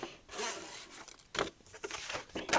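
Scissors snip the corners off a scored paper pocket for a handmade 8x7 album, giving several close, crisp rasping cuts in quick succession with short pauses between them and no talking.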